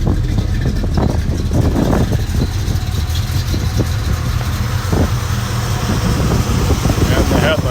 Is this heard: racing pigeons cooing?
no